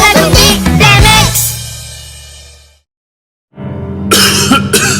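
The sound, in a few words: coughing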